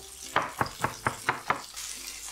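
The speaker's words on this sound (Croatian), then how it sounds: "Češnjak samo dobro ovako stisnemo i narežemo na sitno." A knife chops garlic cloves finely on a board, giving six evenly spaced, sharp knocks close by with no talking.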